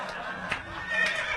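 A horse neigh sound effect on a comedy podcast, a brief shrill whinny played close and fairly loud.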